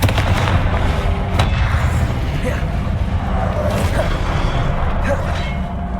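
A Confringo fire-blast spell going off in the Hogwarts Legacy video game, a loud booming burst amid continuous dense battle noise with a few sharp cracks, with a voice shouting a spell over it.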